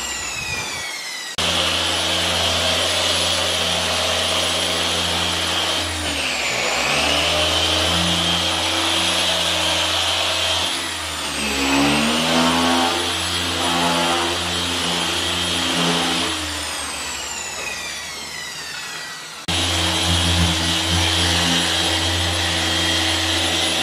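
A dual action polisher does final buffing on a Honda City, giving a loud, steady whir whose pitch dips and rises as the pressure changes, with no voices.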